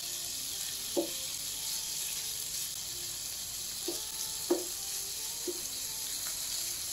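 Meat pieces frying in hot oil for a homemade pizza topping; a steady, fairly quiet hiss of sizzling with a few soft clinks and taps scattered through it.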